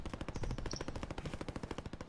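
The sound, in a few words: gunfire in a video game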